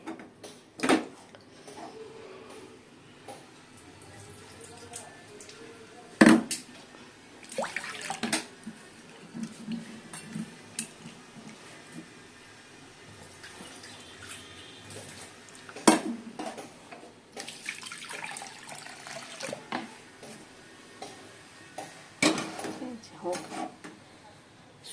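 Fried mung lentils are washed in a cooking pot: intermittent bursts of running and splashing water alternate with clinks and scrapes of the pot, under occasional talk in a home kitchen.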